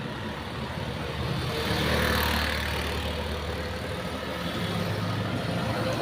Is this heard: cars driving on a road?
yes